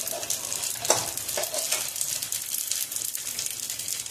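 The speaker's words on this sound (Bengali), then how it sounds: "মোটামুটি আমার কিন্তু সিমুই ভাজা হয়ে গেছে" Vermicelli (simui) frying in a pan for payesh, a steady close sizzle with brief stirring scrapes, no voices.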